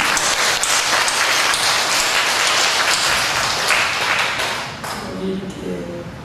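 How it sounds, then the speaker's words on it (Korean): Loud, dense congregation applause at a Korean family church Sunday service, many hands clapping steadily before tapering off toward the end. "큰 박수 드리겠습니다"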